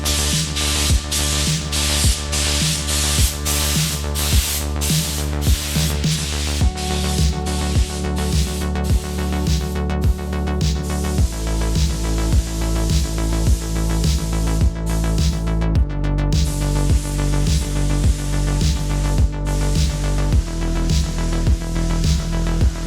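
A full spray gun coats the hull of a Seahawk 35 sailboat under refit, giving a loud continuous hiss with a steady pulsing rhythm and a compressor-like hum beneath, running for over twenty seconds with no talk.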